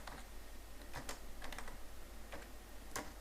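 Quiet keystrokes on a computer keyboard while writing C code, a few scattered taps and short bursts of typing over a steady low hum, with no talk.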